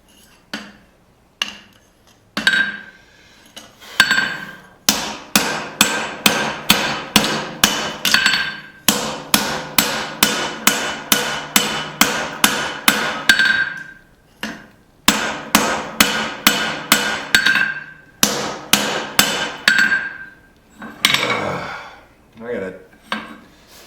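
A hammer forges a steel drifted eye tomahawk, with long runs of rapid, evenly rhythmic ringing metal blows, loud and close, broken by short pauses and a few lighter taps.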